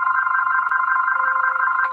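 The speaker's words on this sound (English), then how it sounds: "I hung up on one phone and the other phone's still ringing" A telephone rings with a steady electronic warble, loud and close, buzzing without pause for the whole short span with no voices.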